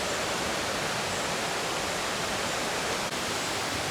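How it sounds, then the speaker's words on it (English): A river in the Smoky Mountains rushes past an abandoned ghost-town house, giving a steady, dense broadband roar that stays loud and unchanging throughout with no other sounds on top. "Beautiful river."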